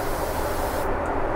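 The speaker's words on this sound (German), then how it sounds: "das ist ganz einfach ein Erfrischungsspray, es ist einfach nur Evian Water" An Evian mineral water facial refreshing spray hisses in a steady, close mist for over a second inside a Lufthansa 747-8 first class cabin, with the constant roar of the aircraft behind it and no talking.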